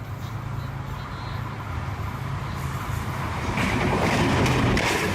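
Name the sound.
train passing, from a video on India's and Pakistan's fastest trains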